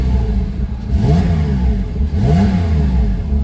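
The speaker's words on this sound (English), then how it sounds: "let's just give it a couple revs of the centrally located tachometer." A 2017 Porsche 911 Carrera engine revs twice, each blip rising and falling in pitch, loud and close over a steady idle.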